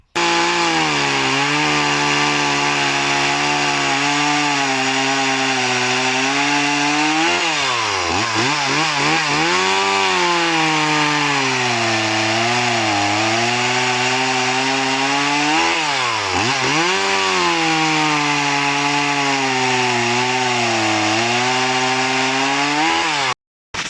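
Stihl MS170 and MS171 chainsaws, roughly 30cc, cutting wood: a loud, continuous two-stroke engine drone near the mic, with the pitch dipping and rising twice as the chain bogs into cuts.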